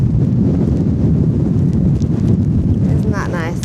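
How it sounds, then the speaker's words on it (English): Strong wind buffets the microphone on a Lake District fell top, a constant heavy low roar throughout, with a voice speaking faintly beneath it. "the wind's stronger here"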